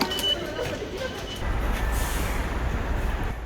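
Train at Akatsuka station in Japan, a model in service since 1985, heard as a low rumble that swells and holds steady at moderate volume amid station ambience, with a brief hiss at the start.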